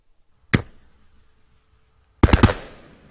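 Consumer fireworks firing two separate bursts: a single sharp crack, then after a pause a rapid cluster of three loud pops trailing off into a brief hiss and echo, with near silence between.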